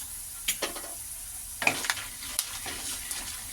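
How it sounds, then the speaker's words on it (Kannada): Urad dal sizzles in hot oil in a pan for poha chitranna, a steady crackling fry broken by a few sharper spatters and stirring scrapes, close and fairly quiet with no voices. "ಈಗ ಇದೆರಡು ಫ್ರೈ ಆಗಿದೆ ಇದಕ್ಕೆ ಉದ್ದಿನಬೇಳೆ ಸೇರಿಸ್ಕೊತಾ ಇದ್ದೀನಿ"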